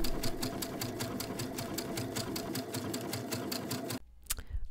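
A sewing machine with a laser guide stitches fabric in a fast, steady mechanical run of needle strokes, close and loud, then stops abruptly near the end, leaving a brief quieter tail.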